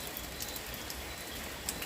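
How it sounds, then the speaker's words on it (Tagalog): Steady heavy rain hisses down with no break, a dense, even wash of falling water at low volume, heard with no one talking. "malakas pa rin yung ulan"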